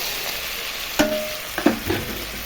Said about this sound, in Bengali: পেঁয়াজের সঙ্গে ভালো করে এটাকে মিশিয়ে নেব বেগুনটাকে, বেগুন আর টমেটোটাকে